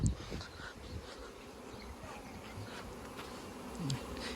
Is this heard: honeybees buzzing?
yes